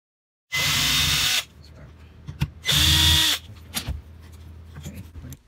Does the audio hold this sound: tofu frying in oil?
no